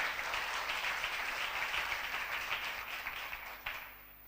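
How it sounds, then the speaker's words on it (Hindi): Clapping from a church congregation during a sermon, a full, even spread of many hands that holds steady, then thins and tapers off near the end. "ताली बजाएं कलाम के लिए।"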